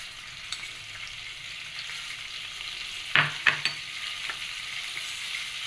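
Coriander seeds hit hot oil in a pan, giving a soft steady sizzle with a few sharp crackles and pops near the middle, fairly quiet and with no talking.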